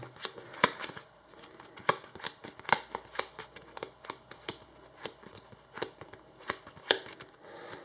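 Playing cards handled at a tabletop card game, crisp snapping flicks and soft riffles in an irregular rhythm, close and clear with no talking.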